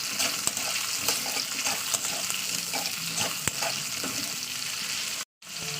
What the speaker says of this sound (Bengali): এবার দিয়ে দিচ্ছি টমেটো কাঁচা লঙ্কা পেঁয়াজ একসঙ্গে দিয়ে দিচ্ছি তো এটাকে ভালো করে আমার তেলের সঙ্গে কষিয়ে নেব